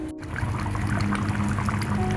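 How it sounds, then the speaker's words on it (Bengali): Water poured into cooked, spiced chicken in a pot while making chicken korma: a steady, close pouring and splashing stream after a brief gap, with no talk. "মাংস কষা হয়ে গেছে, এবারে জল দিয়ে দেবো।"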